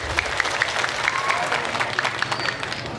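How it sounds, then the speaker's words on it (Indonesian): Crowd applause at a maulid sholawat gathering, scattered hand claps over a background murmur, with voices and chatter mixed in throughout. "Tepuk tangan dulu buat panitia"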